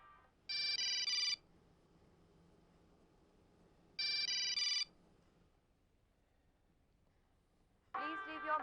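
A mobile phone rings in a domestic scene: two bursts of a bright electronic ringtone spaced a few seconds apart, then a different tone begins, with quiet room sound between.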